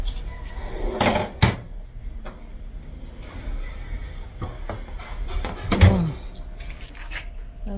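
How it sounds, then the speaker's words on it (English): An office filing cabinet drawer in a surplus store slides and bangs, with several sharp metallic knocks and rattles at irregular intervals over a room's ambient murmur. "Another office drawer, filing cabinet"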